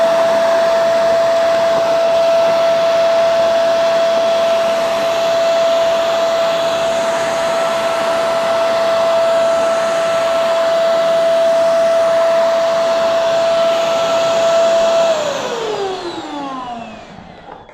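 A Genesis Hydrovac Compact vacuum cleaner runs on tile in hard-surface mode, a loud steady whine with a constant tone for about fifteen seconds, then winding down in pitch as it shuts off, no voices.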